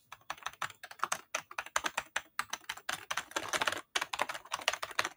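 Typing on an Amiga 3000 computer keyboard, rapid uneven clacking keystrokes close up, with a brief pause midway, loud and alone without talk.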